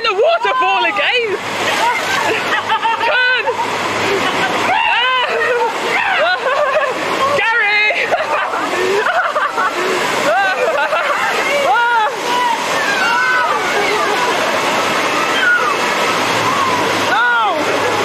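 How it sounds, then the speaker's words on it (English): A waterfall pours onto riders of the Congo Rapids raft ride at Busch Gardens, a loud, continuous splashing roar of water with excited voices and shrieks from the riders throughout. "No, not me in the waterfall again!"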